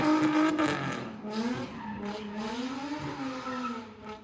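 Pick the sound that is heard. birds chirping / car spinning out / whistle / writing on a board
car spinning out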